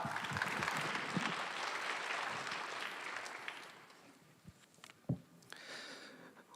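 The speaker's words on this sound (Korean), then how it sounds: "우리 하나님 말씀을 기대하는 마음으로 큰 박수로 이 시간 나아가겠습니다." A church congregation gives a big round of applause before a Korean sermon. The dense clapping fades over a few seconds into scattered single claps and quiet room noise.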